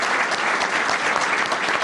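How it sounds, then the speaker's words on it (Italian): Dense, steady audience applause at a football club's season presentation, many hands clapping together in a continuous wash that holds its level throughout. "un applauso"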